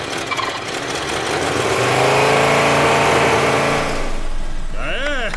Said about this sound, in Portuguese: Agora que o motor está funcionando